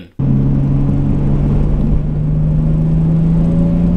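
A 1980s Toyota Supra engine pulls hard on a test drive, a loud steady drone with a strong low tone holding throughout after an abrupt start, no voices over it.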